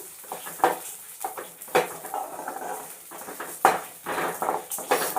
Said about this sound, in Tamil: ஒரு பதம் தெரியும் சவுண்ட் வந்து வந்ததும் நிறுத்திக்கோங்க கொள்ளு நல்லா பொரியட்டும்